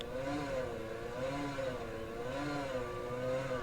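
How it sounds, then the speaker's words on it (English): A rally car engine in the video game Assetto Corsa Rally revs up and down in repeated swells, pitch rising and falling as the revs drop, steady and fairly close. "Listen to the revs drop."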